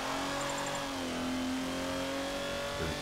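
Ferrari race car engine in the video game Forza Motorsport 7, a sustained high-pitched drone that dips slightly then holds steady as the revs hold, loud and close with no talk.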